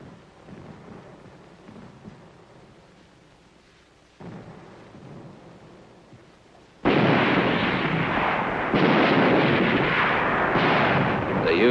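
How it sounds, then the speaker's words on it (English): Tanks firing as an artillery battery during the Korean War in 1951, heard as a deep rumbling roar of distant booms that swells suddenly into a loud, sustained thunderous barrage. "They had to use tanks as artillery."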